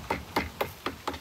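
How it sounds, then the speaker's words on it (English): A hammer taps wooden concrete form boards on a removable umbrella stand base, giving five evenly spaced, fairly quiet knocks about a quarter second apart. "you may want to take a hammer and just kind of go like this"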